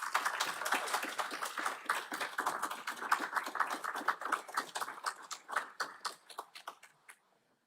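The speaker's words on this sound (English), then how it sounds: "If you all will give him a round of applause." A graduation audience at the Saddleback College Human Services ceremony applauds Dom, many hands clapping in a dense, steady patter that fades out over several seconds.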